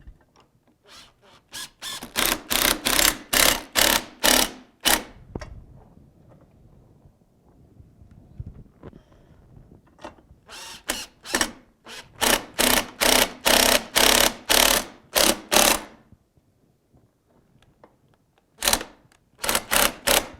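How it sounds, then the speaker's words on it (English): A power driver runs 2-inch screws into a gusset plate on an Andersen fiberglass window mull, giving rapid ratcheting bursts in several separate runs with quiet pauses between them, close and loud. "with a couple of 2-inch screws, he's going to fasten that"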